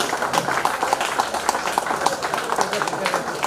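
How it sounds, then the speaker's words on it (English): An audience at a Walk a Mile 2022 event breaks into a steady round of clapping, many hands beating rapidly throughout, moderately loud and continuous. "Can we give them a good round of applause"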